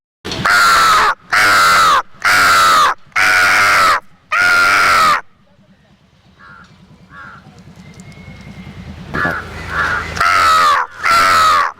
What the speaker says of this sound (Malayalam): അവിടെ ഇവിടെയൊക്കെ വന്നിരിക്കുന്നുണ്ട് കേട്ടോ കാക്ക